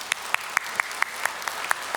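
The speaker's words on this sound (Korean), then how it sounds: "쉽게 한번 박수" Sparse applause from a church congregation at a Sunday evening service, heard as a few distinct, evenly spaced claps rising over a quiet room, fairly soft and unhurried.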